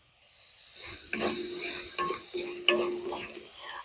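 Bilimbi (irumban puli) tipped into hot oil for a pickle, a soft steady sizzle with stirring scrapes and a few utensil knocks in a pan, fairly quiet and close.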